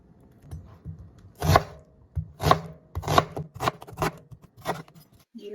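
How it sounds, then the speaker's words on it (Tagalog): A knife chops onions on a board with about seven crisp, evenly spaced strikes. The cuts come faster toward the end and are close and clear against a quiet background. "Patira tayo ng onions."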